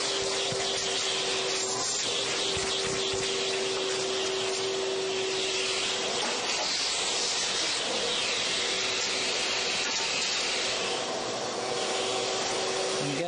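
A vacuum cleaner runs steadily, sucking up vinyl sawdust in a workshop, a loud continuous whooshing drone with no talk.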